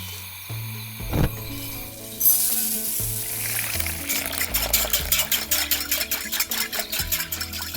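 A stove is lit with a sharp click for porridge, then the pot begins a rapid rhythmic bubbling and sizzling. It sounds close and moderately loud, under gentle background music.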